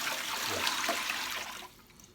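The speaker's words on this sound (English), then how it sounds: "So we're putting our water first." Water being poured into a container to start hand-made Neapolitan pizza dough, a soft, close splashing pour that fades out after about a second and a half.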